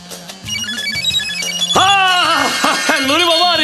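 A phone ringtone plays a short electronic melody, then a voice-like tonal ring comes in louder, repeating in rapid bursts close by.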